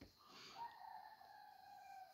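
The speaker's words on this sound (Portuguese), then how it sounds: "Olha só os galos, enfim, cantando as galinhas." Roosters crow faintly in the distance, one drawn-out call rising and then trailing off over quiet background noise.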